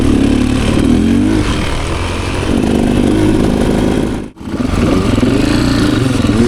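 A Beta 480 X-Pro dirt bike engine runs under a rider, loud and close, with fluctuating revs and throttle surges and a brief cut-out dip before it picks up again; no talk.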